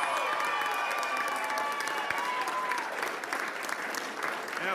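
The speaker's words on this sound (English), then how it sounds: "We'll give our nurses a big round of applause." An audience claps loudly and steadily for nurses during a 2022 Victorian state election speech, a dense, sustained roar of applause throughout with no voices over it.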